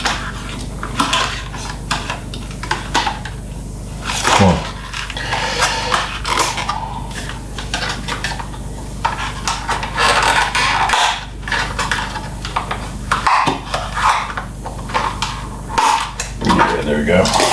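Rummaging through a kitchen drawer for cookie cutters: metal clinks, rattles and sliding knocks come close and fairly loud in bursts, with a sharper clunk midway, set against a busy kitchen background.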